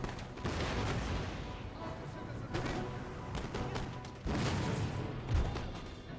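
Howitzer artillery in an Empire: Total War battle, booming in repeated heavy blasts with dense gunfire-like crackle and a continuous rumbling battlefield din, loud and close.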